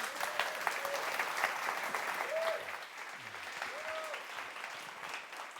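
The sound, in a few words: audience applause for speaker Daniel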